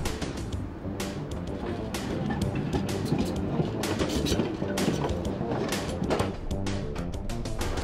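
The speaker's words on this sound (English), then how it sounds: "See how the tram goes round the corner." A tram rounds a corner on its rails, giving a steady close rumble with rapid clicking and clattering from the wheels throughout, and no talking.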